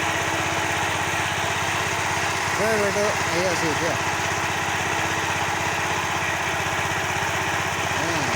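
A tractor ploughing a field keeps up a continuous, steady engine drone throughout, while people talk over it for a few seconds near the middle.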